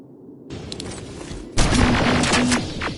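Gunfire in the Terminator: Resistance video game, a sharp opening crack followed by a heavy, sustained barrage of rapid shots and booms, loud and close.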